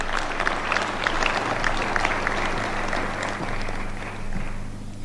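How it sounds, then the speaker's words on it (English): Sustained applause from an audience at a public service leadership fellowship inauguration in Kenya, a dense steady wash of many hands clapping throughout, with faint footsteps and crowd murmur beneath. "We applaud you for that."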